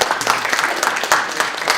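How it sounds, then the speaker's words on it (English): Scattered applause from a small audience at a civic bond-issue meeting, uneven claps with a few louder bursts, fairly close and brief. "So let's give them a round of applause."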